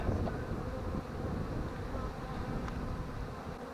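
A dense, steady buzz of many honey bees swarming close around an open hive, continuous and loud with a low hum throughout.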